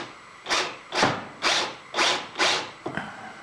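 A letter F bit drilling into a workpiece during an almond centrifuge build, five or six rhythmic grinding bursts about half a second apart, close and alone.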